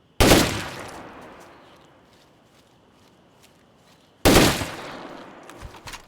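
Two loud, sharp unsuppressed gunshots in the video game State of Decay 2, spaced a few seconds apart, each followed by a long fading echo, with faint clicks and footsteps between them.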